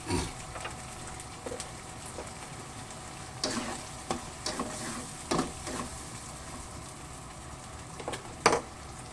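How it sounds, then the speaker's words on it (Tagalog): Squid and shrimp frying in a pan, a quiet steady sizzle with scattered clanks and scrapes of a utensil stirring, one louder knock near the end. "Lagay natin ang ating pusit at ang ating shrimp"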